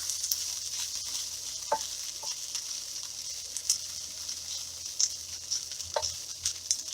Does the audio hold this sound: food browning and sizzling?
yes